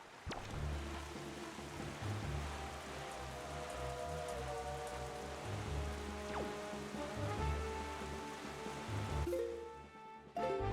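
Steady rain falling in The Legend of Zelda: The Wind Waker, a dense continuous patter with a low rumbling bed and a tonal game music line running through it, no talk.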